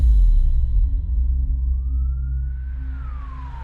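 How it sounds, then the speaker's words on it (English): An ambulance siren wails in a rising and falling sweep, starting from a distance and growing louder over a constant low rumble of traffic or an engine. "Seconds later, the ambulance finally arrived and Kay was rushed to the hospital."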